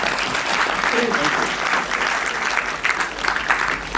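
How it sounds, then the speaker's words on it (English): Sustained audience applause fills a university campus hall, dense and steady for the whole stretch, with a few louder claps standing out near the end and faint voices mixed underneath. "Let's give a round of applause for that."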